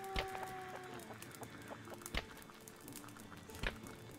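Chickens in the Clanfolk survival game clucking quietly, a few short sharp clucks spread over a soft background murmur.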